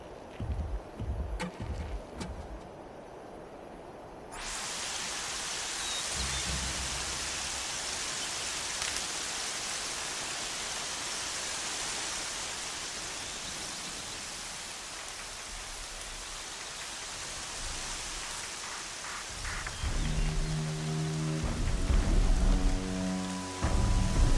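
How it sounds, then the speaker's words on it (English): Steady rain falls in a video game, a dense continuous hiss that swells louder and holds for many seconds, with brief low rumbles and game sounds near the end and no talk. "I wish the rain would stop, though, because I feel like it's really cutting down my visibility here."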